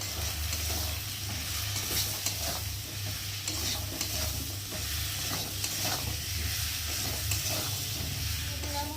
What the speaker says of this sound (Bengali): মশলার সাথে আলুটা ভালো করে কষিয়ে নেব